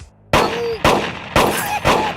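Gunfire from a mobile video game ad, four loud separate shots with short ringing tails, fired in a slow uneven rhythm after a brief quiet start.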